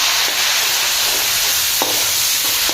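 Tomatoes dropped into hot oil left from frying onions and potatoes for an egg masoor pulao, a loud, dense, continuous sizzle up close with a faint clink, no talking.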